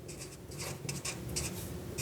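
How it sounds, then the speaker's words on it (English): Chemistry being written on a board or paper, a short run of close scratchy pen or chalk strokes in quick bursts. "now I'm going to write in the left side"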